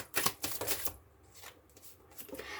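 Tarot cards are shuffled close by in a brief, soft flurry of riffling and flicking that quickly fades to quiet rustling.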